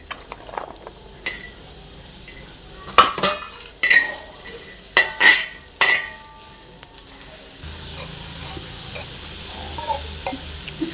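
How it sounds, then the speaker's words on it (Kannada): Onions being fried in a pan after roasting peanuts, a steady soft sizzle under repeated scraping and stirring strokes of a utensil against the pan, several louder stirring bursts in the middle. "ಈರುಳ್ಳಿನೂ ಹಾಕಿ ಹುರ್ಕೋಬೇಕೀಗ."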